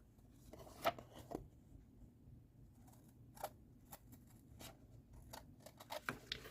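Scissors trim paper for a small folding scrapbook, giving faint, scattered snips and crisp cuts at an uneven pace, close by in a quiet room.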